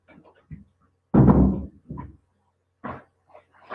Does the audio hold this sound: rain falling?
no